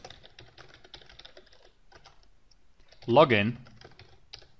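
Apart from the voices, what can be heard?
typing on a computer keyboard to telnet to a Cisco router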